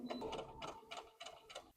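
A sewing machine stitches around a tote bag with a 1 cm seam allowance, giving a quick series of rhythmic mechanical chattering bursts. It sounds close but quiet, with no talk.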